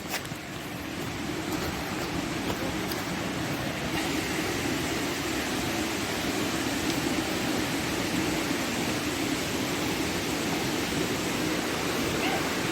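The Savatkada waterfall near Rajapur rushes in a continuous, dense roar of falling water that fills the whole stretch at an even level, with no talking.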